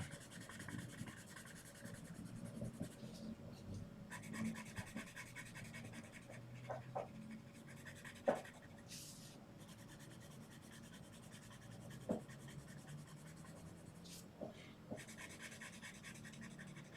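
A red Faber-Castell Polychromos colored pencil pressed hard on paper, giving a quiet, close scratchy rubbing that comes in repeated strokes with occasional small taps and clicks.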